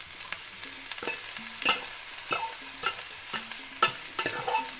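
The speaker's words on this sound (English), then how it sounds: "So I'm just going to give it a stir." Vegetables and Indomie instant noodles are tossed in a pan over low heat, with a spatula scraping and clanking in irregular strokes over a quiet sizzle, close and moderately loud.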